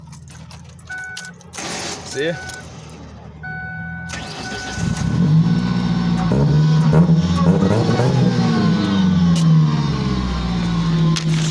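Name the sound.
car engine starting and revving with Borla exhaust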